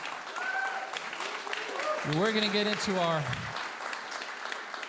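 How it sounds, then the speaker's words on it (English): Audience applause at a WoodSongs livestream concert, steady clapping running throughout with a host speaking over it partway through. "Give yourselves a big round of applause"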